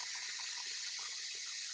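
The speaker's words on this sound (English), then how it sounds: "I'm gonna grab about 2 cups of water." Tap water runs steadily into a container while cooking slow-cooked beef tenders, a continuous soft hiss-and-splash at moderate distance with no talk over it.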